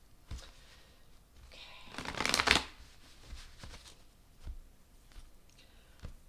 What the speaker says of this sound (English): I shuffled them pretty good that last few times